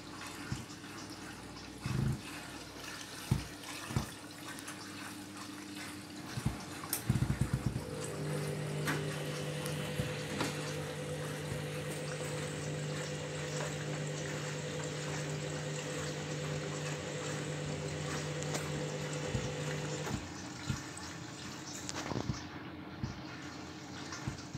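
A Candy washing machine fills with water, a steady hiss and rush with a low pump-like hum setting in after a few clunks, continuing evenly for a long stretch before cutting off near the end.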